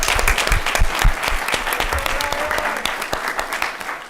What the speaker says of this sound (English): Let's give a warm round of applause for these amazing scholars.